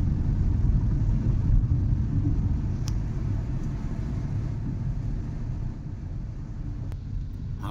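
A car driving on the Mumbai–Pune Expressway, heard from inside as a steady low engine and road rumble, continuous and moderately loud, with a couple of faint clicks.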